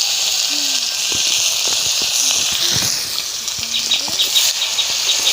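Garlic paste sizzles in hot oil in a village-style kitchen while a Bengali red chicken curry is cooked, giving a steady bright hiss with faint scraping stirs and a voice speaking softly underneath.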